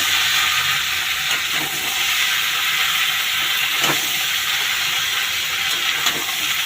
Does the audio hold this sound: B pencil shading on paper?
no